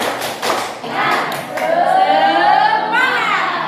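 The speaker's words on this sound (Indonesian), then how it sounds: "Tepuk semangat." A group of adults and children does a rhythmic 'tepuk semangat' clap, with several sharp bursts of claps early on giving way to chanting and cheering voices.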